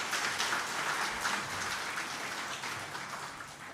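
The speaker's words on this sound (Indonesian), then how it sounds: "Tepuk tangan dulu." Applause at an Indonesian government integrity zone signing ceremony, a steady broadband patter of many hands throughout, moderately loud and fading slightly toward the end, with no talk.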